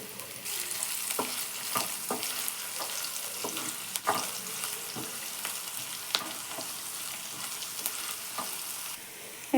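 Chopped onion fries in a pan with a constant soft sizzle, broken by occasional stirring clicks and scrapes from a spoon.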